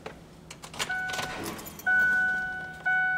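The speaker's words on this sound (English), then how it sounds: "You're now going to turn the ignition on the truck." Keys jangle in the ignition of an Arctic snowplow truck, then it switches on, setting off steady electronic tones that hold, cut out briefly and resume, with no engine cranking.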